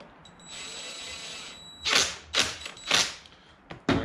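Tightening a bolt by hand while assembling a Cannon Optimum downrigger, with a faint whine early on, then several close, hollow thumps and rattles of metal parts, with no talk.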